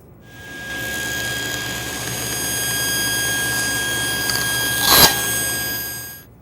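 A table saw runs with a steady, loud motor whine while cutting thin strips of wood, rising to a short, harsher burst near the end. No voices are heard.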